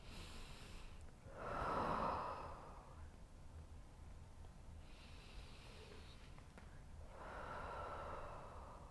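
Slow, deep breaths during a yoga hamstring and quad stretch, with two long audible exhales about five seconds apart, soft and close against a quiet room.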